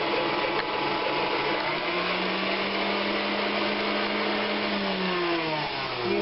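An electric mixer whips cream with powdered sugar and vanilla, its motor holding a steady, close whir throughout with only slight shifts in pitch and no talking.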